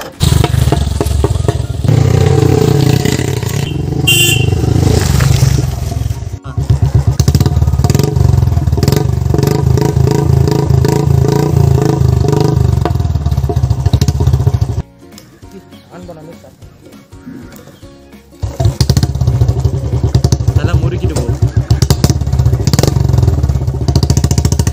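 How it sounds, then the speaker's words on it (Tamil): A Royal Enfield motorcycle fitted with a long bottle Punjabi silencer exhaust thumps loudly and close, idling and revving with a rhythmic beat, then drops briefly before roaring again, with people talking over it at a busy bike market. "அந்த சைலன்ஸ் சவுண்டு பார்த்தாலே உங்களுக்கு தெரிஞ்சிருக்கும்"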